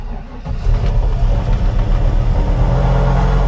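LS-swapped 1952 Chevrolet engine with a custom stainless steel exhaust starts up after a brief quiet moment, then settles into a loud, close, lumpy rumbling idle that runs steadily to the end.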